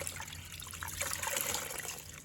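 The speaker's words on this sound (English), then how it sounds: "wring these a little bit by hand" Wet laundry being wrung out by hand beside a rinse tub, water trickling and dripping close by in uneven spurts that swell midway through, with no voices.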